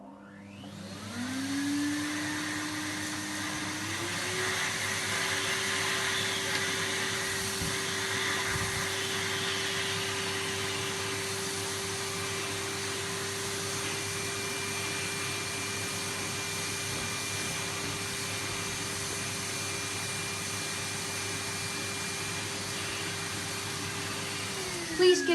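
A Hoover vacuum cleaner runs steadily during a home demonstration, its motor rising in pitch as it starts up and then holding a constant, moderately loud whine and rush of air for the whole stretch without talk.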